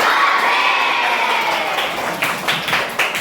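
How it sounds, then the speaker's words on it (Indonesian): Schoolchildren in a grade 6 classroom clap rapidly and cheer together, a loud crowd burst that thins into scattered claps and shouts toward the end. "Kedua tangan tepuk banyak, bilang hore"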